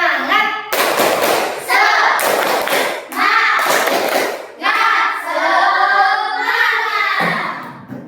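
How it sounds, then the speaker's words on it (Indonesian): A class of elementary schoolchildren performs a rhythmic spirit clap, loud, close bursts of patterned clapping alternating with children's voices chanting along in unison. "Coba tepuk semangat dulu"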